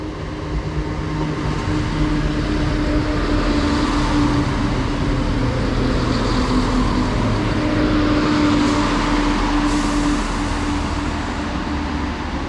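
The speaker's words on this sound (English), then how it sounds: "arriving in now is going to be the 9:09:51 ScotRail service from Glenrothes to Edinburgh" A ScotRail Class 170 diesel unit arriving at a platform on the Fife Circle, a steady loud rumble of engine and wheels with a sustained tonal hum running throughout.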